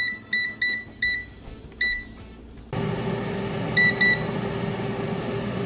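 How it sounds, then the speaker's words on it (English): An air fryer set to 380 degrees beeps five times in quick pairs of tones, then a steady fan hum starts up as it preheats, with two more brief beeps over it. "Now we are going to preheat our air fryer"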